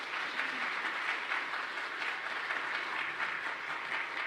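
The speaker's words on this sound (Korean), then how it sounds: "우리 목사님 따뜻한 박수로 환영하겠습니다" Church congregation at a midweek evening revival service gives warm, sustained applause to welcome the pastor, an even, dense wash of clapping throughout with no talk.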